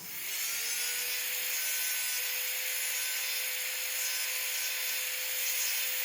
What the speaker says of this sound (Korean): 요걸 깎아 볼게요